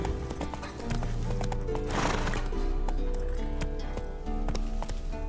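Roach the horse gallops in The Witcher 3, with steady rhythmic hoofbeats close up throughout and a brief whinny, over game music.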